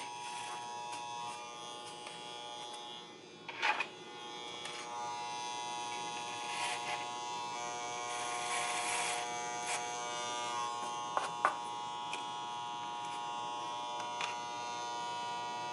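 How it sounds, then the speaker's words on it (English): Electric hair clippers buzzing steadily while cutting the hair of a wig into a stacked bob, a continuous close mechanical hum with a few brief louder snips and changes as the blades pass through hair. "I'm going to use the clippers to give me a line"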